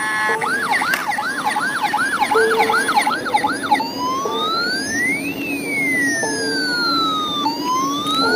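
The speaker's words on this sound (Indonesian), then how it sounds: "Wow, ternyata ada mobil ambulan." A high-pitched electronic siren from a toy ambulance cycles through wailing and yelping patterns, loud and close, with no talking.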